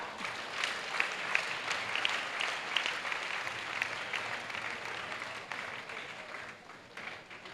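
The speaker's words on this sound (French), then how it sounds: "Acclamez. Clap." A church congregation claps together at a salvation and healing gathering, a steady, moderately distant patter of many hands that fades slightly toward the end.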